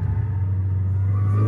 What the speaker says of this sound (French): Trop vite pour les pneus là, clairement. Ça patine carrément.